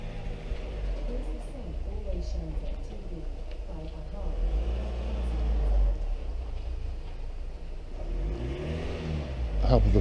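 A car drives past outside, its engine rumble swelling mid-clip and then easing, heard indoors beneath a steady background of other sound.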